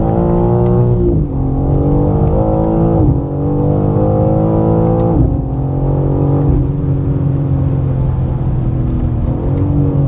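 A 2025 BMW M4 CS engine pulling hard on a race track, loud and close, with strong rising harmonic sweeps as it revs up through the gears, brief dips at each shift, sustained throughout.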